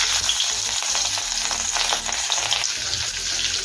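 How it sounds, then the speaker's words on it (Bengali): Rohu fish pieces sizzle in hot mustard oil in a wok, a loud, steady crackling fry with dense spattering that holds close and constant throughout, with no voices. "তেল গরম হয়ে গিয়েছে, এখন তেলের মধ্যে দেবো মাছের পিস।"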